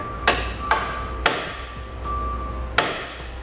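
Four sharp hammer strikes on a metal punch against a steel bumper beam, spaced unevenly over a few seconds, each a bright close ringing tap over quiet background hum.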